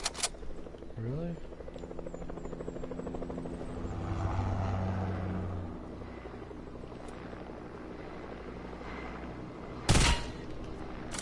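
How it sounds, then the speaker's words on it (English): Helicopter rotor thrum in a video game, steady and moderately loud beneath game sounds, with a sharp burst near the end. "Helicopter."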